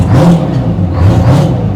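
A 1000-horsepower Super Rat engine in a street rod at a Pigeon Forge rod run, loud and close, surging through repeated revs that rise and fall in pitch, with no talking over it.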